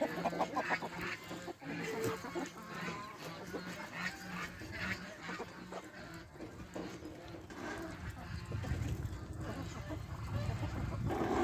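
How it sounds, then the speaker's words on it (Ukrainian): Chickens cluck and chatter steadily in a busy farmyard, with a constant dense background of bird noise and some rustling throughout. "Так ось наші кури вже набігають"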